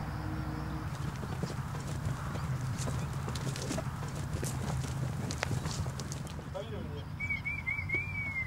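Horse hooves clip-clop steadily on a hard surface in the Camargue, France, mixed with background voices and a brief bird call near the end.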